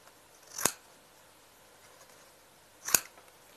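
Two short, crisp snips of scissors cutting paper while trimming the ears of a folded paper giraffe, spaced a couple of seconds apart in a quiet room.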